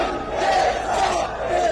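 A huge protest crowd of around 150,000 people massed on the Eidgah ground in Pakistan-occupied Kashmir roars continuously and loudly, close and dense, with rising waves of shouting and no single clear voice.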